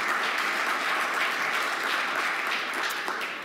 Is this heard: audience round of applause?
yes